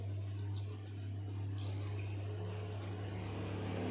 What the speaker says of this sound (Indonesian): Kemudian yang berikutnya, kita alirkan keran yang mengalir.